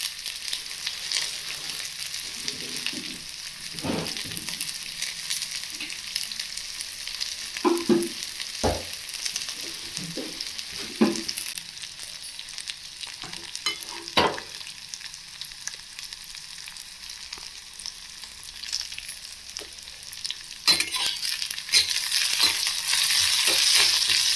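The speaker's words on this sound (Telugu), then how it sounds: "లైట్ గోల్డెన్ కలర్ వచ్చే వరకు వాటిని వేయించాలి" Cluster beans frying in a pan until light golden, a steady sizzle running throughout with intermittent scraping stirs and clinks from a spatula, growing a bit louder toward the end, with no talking.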